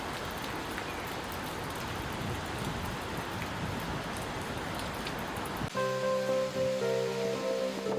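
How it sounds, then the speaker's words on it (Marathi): Steady light drizzle patters softly throughout at a temple near Bhimashankar, fading into a quieter stretch with faint tonal hum near the end. "रिमझिम पाऊस पडतोय"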